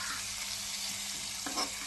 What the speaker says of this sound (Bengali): আগে তেলে লবণ আর হলুদ দিয়ে বেগুনগুলো ভেজে নিচ্ছি।